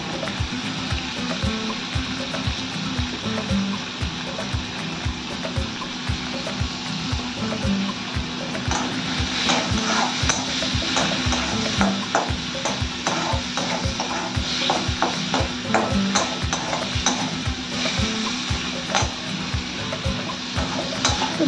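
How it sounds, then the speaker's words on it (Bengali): Prawns seasoned with turmeric and salt fry in oil in a pan, giving a continuous close sizzle with repeated rhythmic scraping and stirring, loud and steady with no talk. "চিংড়ি মাছটা একটু হলুদ একটু নুন দিয়ে এটাকে আমি ভেজে নেব"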